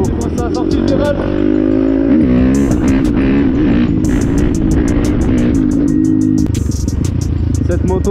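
A YCF 190 Bigy Daytona pit bike rides past, its engine loud, close and continuous, with pitch rising and falling through gear changes and throttle swells, plus rapid ticking clatter on top.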